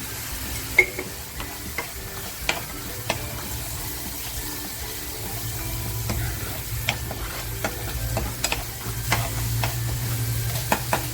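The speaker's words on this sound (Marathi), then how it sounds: "मसाला आपल्याला खमंग परतवून घ्यायचं आहे" Green masala for silver barfish being sautéed in a pan, a low steady sizzle under frequent scraping and tapping of a spoon against the pan, close and continuous, with no voices.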